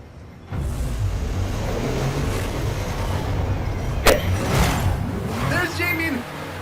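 Car engine in the Forza Horizon 5 racing game, a steady loud rumble and drone that holds throughout with a sharp click partway, mixed under a voice and other game sounds.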